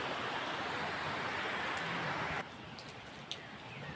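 Steady rain hissing down, heavy at first and then easing slightly to a softer patter with an occasional drip.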